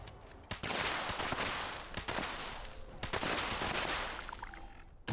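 Fallout 76 Gauss rifle fire with Grenadier-enlarged explosions: a dense, continuous roar of blasts and gunfire punctuated by several sharp cracks, loud and close, with no voices.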